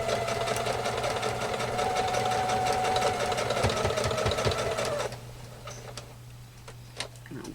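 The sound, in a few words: sewing machine stay stitching slowly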